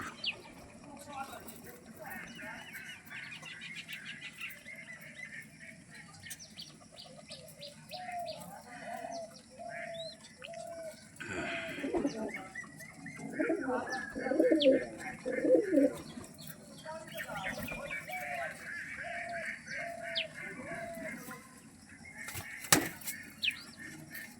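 Several apparently sick pigeons coo in low, throaty rolls, growing louder midway, amid chirps and faint wing flutters.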